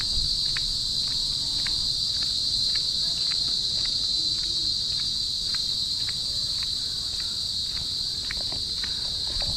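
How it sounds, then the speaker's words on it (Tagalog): Crickets chirp steadily in a dense, continuous high drone outdoors at a resort in Bagac, Bataan, with faint footstep-like taps beneath and no talking. "may maririnig kang kuliglig"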